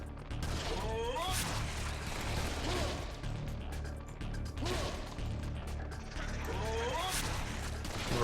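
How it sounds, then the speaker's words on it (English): Gunfire rattles in a Serious Sam 3 game session, bursts of loud shots and crashing impacts over a heavy low rumble, recurring in waves across the stretch. "Over by the exit over here if you hear gunshots."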